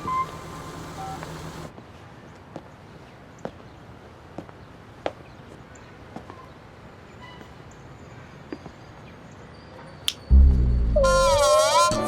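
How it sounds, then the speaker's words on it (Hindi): A telephone being dialed indoors at home, heard as a short steady tone followed by sparse, evenly spaced key clicks, then a loud warbling tone burst at the end. "वीर जी को फोन करता हूँ।"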